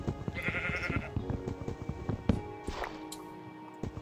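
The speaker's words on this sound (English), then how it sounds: "Poor sheep. They're gonna die soon." Sheep in the video game Minecraft bleat repeatedly in quick succession alongside soft footsteps and small game sounds, moderately loud and close, with no talking.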